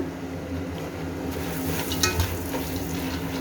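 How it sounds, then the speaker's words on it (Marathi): Curry leaves crackle and sizzle in hot oil for puffed rice chivda, a steady close frying hiss with a few light stirring scrapes and small pops toward the end. "कढीपत्ता पण छान असा कडक तळून द्यायचा"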